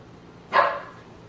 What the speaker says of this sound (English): He's barking at his toy.